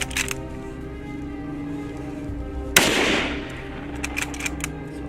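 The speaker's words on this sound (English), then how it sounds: "The sound of the gunshot echoes." A single rifle shot fired at a charging wild boar in a field cracks out sharply and loud, then rings off in a decaying echo over steady background noise.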